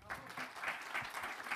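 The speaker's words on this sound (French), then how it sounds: "Et je vous invite d'accueillir sous vos applaudissements Emmanuel et Michel." An audience at an innovation campus event claps to welcome two speakers on stage, a short burst of moderately loud, uneven applause with a slightly muffled, reverberant quality.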